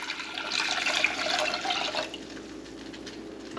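Two cups of apple cider vinegar poured into a pot of hot water for a mustard base, a splashing liquid stream for about two seconds that eases into a softer trickle.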